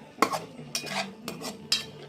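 A spoon scrapes and clinks around a pot while ground coconut is stirred into egg curry, making four rhythmic, evenly spaced strokes with no talking.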